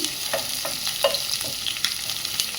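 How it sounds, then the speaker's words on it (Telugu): Onions and green chillies fry in hot oil for a curry gravy, giving a steady close sizzle broken by repeated scraping stirs of a spatula in the pan, with no talk. "ఆయిల్ కొంచెం హీట్ అయిందండి ఉల్లిపాయలు పచ్చిమిర్చి కొంచెం ఫ్రై చేస్తున్నామండి గ్రేవీ కోసం"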